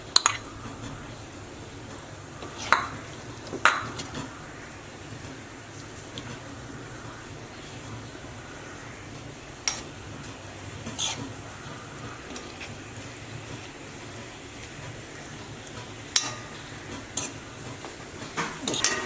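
Soaked dry mango pieces go into a pan of pickle masala with the stove switched off and are stirred, giving sparse, soft spoon scrapes and a few sharp clinks against the pan over a quiet, steady background, with no talking.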